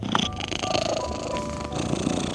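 A cat purrs steadily and close up, a continuous rumbling purr filling the short stretch with faint room noise behind it.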